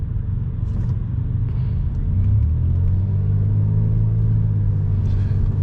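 Slow, crawling traffic on an expressway, heard from inside a car as a steady low road rumble and engine drone that rises slightly midway, with no voices.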